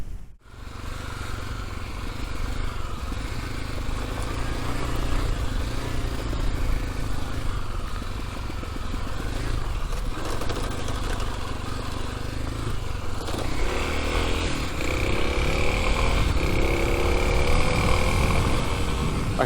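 Kawasaki KLX300 dual sport motorcycle ridden steadily, a continuous single-cylinder engine drone under wind rush that rises in pitch toward the end as it accelerates, with no talking.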